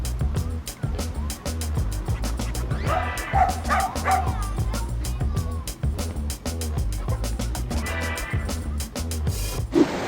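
A stray dog beside a busy road barks in a rapid, steady series of sharp woofs, close and loud, with occasional yelps over traffic noise.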